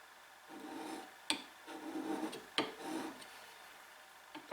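Steel chisel blade honed on a sharpening stone to remove the burr: soft rasping rub strokes, faint and close, with two sharp knocks around the middle and a smaller one at the end.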